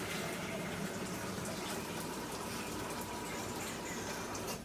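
Tap water runs steadily into a large cooking pot being filled to boil ramen noodles in a home kitchen, a continuous, fairly faint gushing hiss with no break and no talking.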